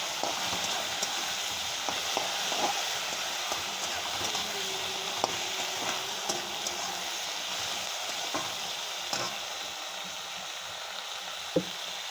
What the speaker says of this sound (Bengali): এবার দিয়ে দেবো আমি আনাজগুলো, আলু পটল আর ডাঁটার সাথে ভাজা ভাজা হবে এর সাথে